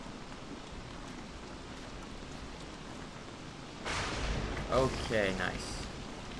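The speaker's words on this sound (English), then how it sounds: "Why is the rain so bad? Ah, crap. It is pouring." Heavy rain pours steadily in the Don't Starve: Reign of Giants video game, a constant hiss that swells louder partway through, with a person briefly talking over it.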